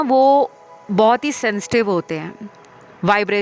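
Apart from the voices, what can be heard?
No distinct noise like a dog, phone or traffic.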